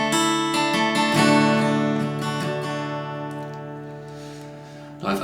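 An acoustic guitar picks the intro of a song, bright strummed and plucked notes ringing out close, then decaying into sustained chords with a fresh strum at the end.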